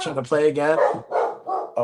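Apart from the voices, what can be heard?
dog barking loudly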